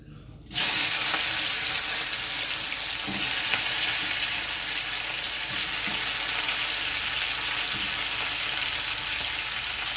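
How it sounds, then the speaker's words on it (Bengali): A sudden loud sizzle erupts as shrimp hit hot oil, then settles into a steady, close crackling fry with occasional pops. "তেলটা গরম হয়ে গেছে এবার আমি মাছগুলো দিয়ে দিচ্ছি"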